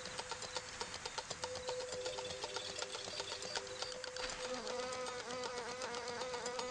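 Flies buzzing in flight in a garden, a dense continuous drone of rapidly beating wings with steady pitch and slight wavering, close and alone without voices.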